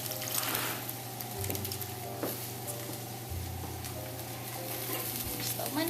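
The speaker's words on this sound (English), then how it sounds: "Alright, adding the tomatoes." Canned tomatoes with their juice pour and stir into a simmering pot of chili with lentils, a soft wet sizzle and stirring over a steady low hum, close and fairly quiet.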